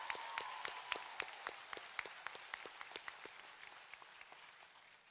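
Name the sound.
audience applause at graduation ceremony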